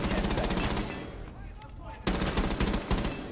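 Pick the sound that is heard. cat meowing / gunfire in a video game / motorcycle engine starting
gunfire in a video game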